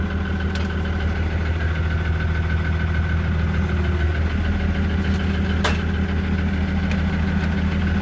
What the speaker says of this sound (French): On va avancer le tracteur.